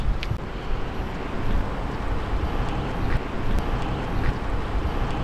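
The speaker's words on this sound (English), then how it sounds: "Little breeze. Chilly breeze." Steady wind buffeting a microphone outdoors on a chilly day beside a 1932 Ford roadster hot rod, a continuous low rumbling roar with gusty swells and no speech.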